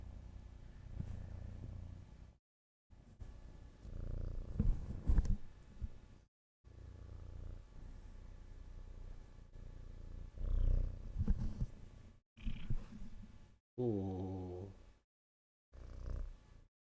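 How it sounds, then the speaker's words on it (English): A cat purrs in close, rumbling bursts with short gaps, and a brief high squeaky sound near the end; a voice murmurs briefly. "Can you hear the purrs?"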